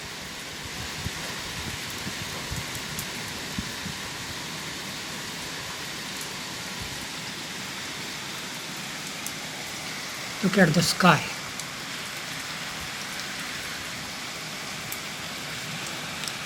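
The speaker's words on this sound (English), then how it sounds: "Still heavily raining." Heavy rain pours down, heard from a second-floor terrace as a steady, constant hiss of drops. A person speaks briefly partway through.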